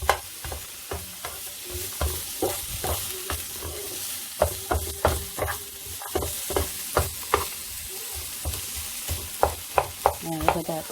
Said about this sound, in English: Cook a little bit the onion.